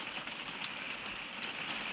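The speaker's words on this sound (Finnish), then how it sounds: "mutta vettä sataa" Steady rain falls in a continuous dense hiss with scattered drop patter, heard closely and evenly throughout with no voices.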